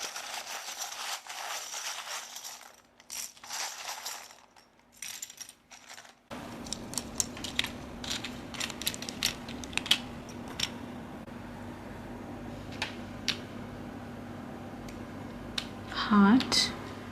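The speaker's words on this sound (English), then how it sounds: "So pile 2, I will shuffle your letters." Tarot cards shuffled close by during a pick-a-card reading, a steady papery rustle and riffle that starts after a few seconds of near silence and continues with small clicks and taps.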